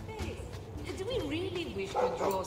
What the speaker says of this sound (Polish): Przepraszam, czy za mną biegnie pies?